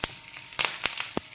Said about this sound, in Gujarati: ખૂબ જ સરસ અવાજ આવ્યો વઘારનો